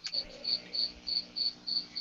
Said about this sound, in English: Boy, I love the sound of crickets.